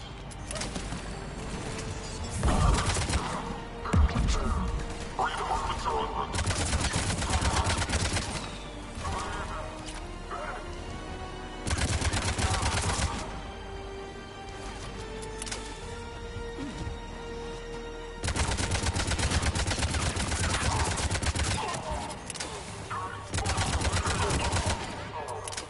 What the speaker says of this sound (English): Under heavy attack. Enemy still present. Pod under fire.